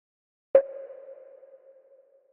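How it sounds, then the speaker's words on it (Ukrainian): Accent percussion hit from a melancholic production, a single sharp struck transient followed by a ringing tonal decay with reverb tail, heard alone. "Ще в мене є акцентна перкусія, яка б'є на кожний другий снейр"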